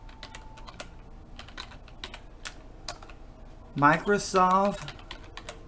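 Computer keyboard typing, a run of quick, light, close key clicks with short gaps, ending with someone briefly speaking over the last of the keystrokes.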